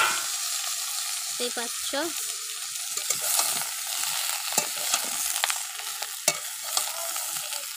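Pointed gourd and potato fry in a pan with black cumin, a soft continuous sizzle broken by scraping stirs of a spatula, with someone speaking briefly over it.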